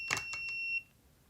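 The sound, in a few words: device beep when at temperature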